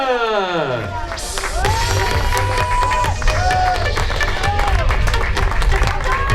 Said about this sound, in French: tonnerre d'applaudissements pour les équipes